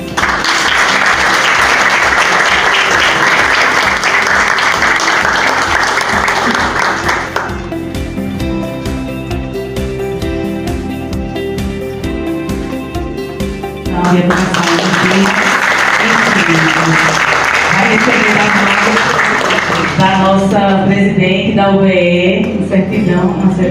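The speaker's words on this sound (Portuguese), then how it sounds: "Vamos aplaudir." Audience applause at an evening honors ceremony for organizations and personalities in Caruaru, loud sustained clapping that drops away midway under music and voices, then surges back before fading into music.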